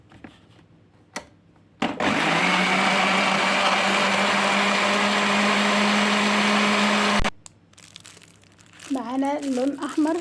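Electric blender whirring steadily for about five seconds as it mixes ingredients for homemade luncheon meat with oil, with a sharp start and stop, then a voice talking afterward.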